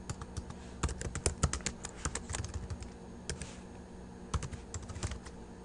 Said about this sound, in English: So just as an example, I'll just type that one sentence in there.